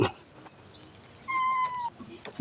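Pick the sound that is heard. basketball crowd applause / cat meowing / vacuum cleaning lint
cat meowing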